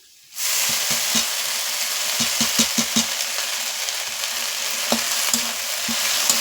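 Drumstick greens drop into potatoes frying in a pan, setting off a loud, steady sizzle with scattered sharp crackles and taps of stirring throughout after a sudden start.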